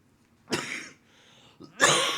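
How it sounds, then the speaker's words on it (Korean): A person coughs twice indoors during a Sunday morning church service, two harsh, close bursts separated by a brief pause. "기침이 계속 나오네요."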